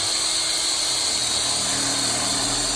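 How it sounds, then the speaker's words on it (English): A power drill with a 3/16 bit bores a pop rivet hole in a window well cover bracket, a loud continuous high whine holding steady throughout at close range. "we're going to drill the upper hole for now for the pop rivet hole with the 3/16 bit"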